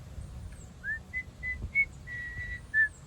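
A person whistles a few short, faint notes, each separated by a brief pause, over a low background rumble.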